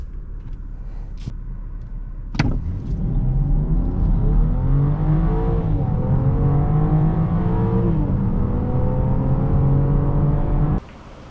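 A 2024 BMW X5 xDrive40i engine revs up and pulls hard from inside the cabin, a rising, steady drone building after a sharp click, loud and close, with no voices.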